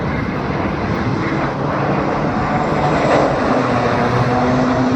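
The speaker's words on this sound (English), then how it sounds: "stand here all day and watch airplanes come and go" A propeller airplane passes near an airport, its engine drone loud and steady with a slight rise and shift in pitch as it goes by, with no voices.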